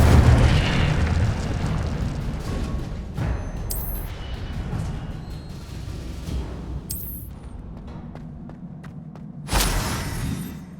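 Incendio fire spells cast in Hogwarts Legacy, booming fiery bursts over a rumbling battle ambience, with sharp bright flares at intervals and a heavy thud near the end.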